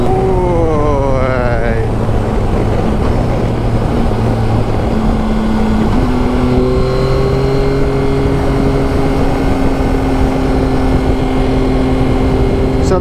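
A Yamaha Tracer 900 GT Plus motorcycle fitted with a third-generation quick shifter is ridden hard, its engine note climbing and shifting through gears beneath a constant heavy roar of wind.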